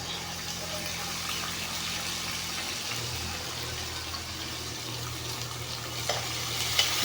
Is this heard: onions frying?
yes